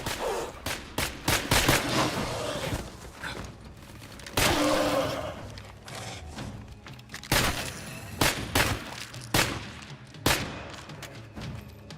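Rapid video game gunfire crackles in bursts and single sharp shots throughout, loud and close, with short gaps between volleys.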